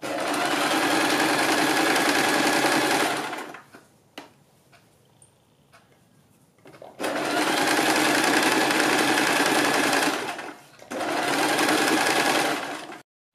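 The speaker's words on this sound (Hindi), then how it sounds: "वहाँ से हम सिलाई लगानी शुरू करेंगे और दूसरे हिस्से तक इसको उतार देंगे" A sewing machine runs loud and close while stitching a bell sleeve, in two long continuous bursts and a shorter third, separated by quiet pauses with faint handling clicks.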